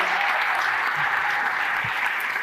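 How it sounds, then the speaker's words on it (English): Steady, dense audience applause in a school concert hall during a winter concert, honoring the custodial and support staff; continuous clapping at an even level with no pauses. "Big round of applause for all of those guys."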